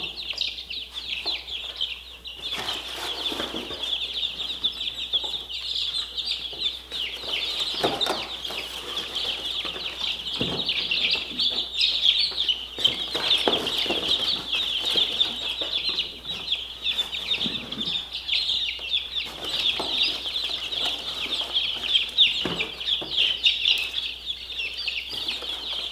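A brood of newly hatched chicks huddled indoors under an artificial mother hen cheeps in a continuous, high-pitched chorus, steady and close throughout, with occasional soft rustling.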